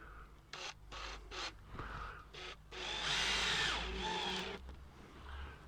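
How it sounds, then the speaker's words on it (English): A cordless drill drives a couple of screws into a fixing in short whirring bursts, then one longer grinding run, close up and fairly quiet. "just pop a couple of screws in to the fixing"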